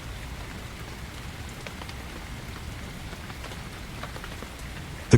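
Steady rain falls across a forest, a dense even patter on leaves and ground that holds constant throughout with no talking, ending on a brief soft thump.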